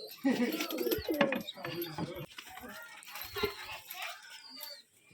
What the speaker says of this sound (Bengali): কালারের দিক দিয়ে কবুতরের চোখ মাশাআল্লাহ অনেক সুন্দর কবুতর দুইটা